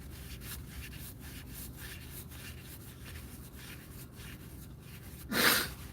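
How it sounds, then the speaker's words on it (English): A short, forceful nose blow bursts out near the end after several seconds of quiet rustling and rubbing. "Gotta blow my nose"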